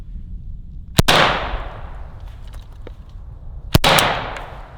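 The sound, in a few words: AK-47 rifle firing after mud torture test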